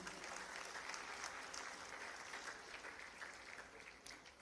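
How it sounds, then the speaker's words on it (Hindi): Sustained, dense applause from a large audience at a sports award ceremony honouring Olympic and Paralympic medal winners and Vikram awardees, steady and loud throughout with no pauses. "एक बार पूरे सभी आज गौरवान्वित होने वाले सारे अपने भाई बहनों के लिए जोरदार तालियां बजाएं।"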